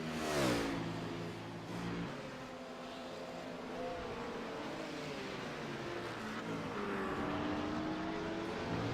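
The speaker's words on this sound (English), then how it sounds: "So the number 59 car is slowly trundling through the pit lane" Race car engine at the 12 Hours of Road America endurance race, revving and idling as it trundles slowly through the pit lane, a close, steady rumble with rising and falling pitch.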